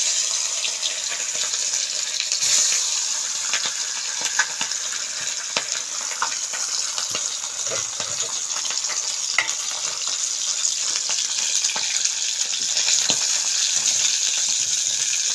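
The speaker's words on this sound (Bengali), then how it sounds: "তেল গরম হয়ে গেছে, মাছটা ছেড়ে দিলাম।" Flour-dusted fish frying in hot oil, a steady dense sizzle and crackle with scattered sharp pops, close and continuous throughout, with no talking.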